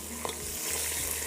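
Beef and spices sautéing in a karahi give a low, continuous sizzle with a couple of soft stirring scrapes, close and without talk.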